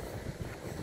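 Strong wind buffets the microphone in a steady low roar at a hilltop near a seaside resort in Dingalan, Philippines, with faint surf or water noise beneath and no voices.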